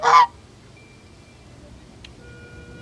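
A single short, loud goose honk at the start, then quiet background with a faint distant chirp.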